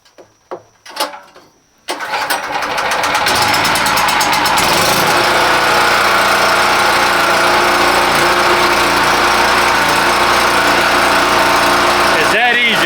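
A portable generator used to power an air conditioner is pull-started with the choke on, a few rough tugs and clunks before the engine catches and settles into a steady, loud, close running drone.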